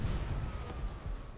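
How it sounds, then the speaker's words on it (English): Dense, steady battlefield din from the video game Call of Duty: World at War, with continuous gunfire and artillery-like rumble filling the whole short stretch at an even, loud level, no voices. "See, they keep on shooting."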